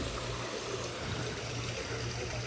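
Small decorative waterfalls in a Korean courtyard, trickling and splashing in a continuous faint wash of running water with a low hum beneath.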